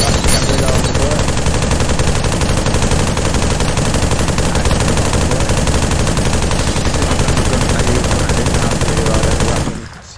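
Sustained rapid gunfire from a weapon being emptied in the VR shooter Pavlov VR, loud and continuous for about ten seconds before cutting off abruptly, with no talking over it.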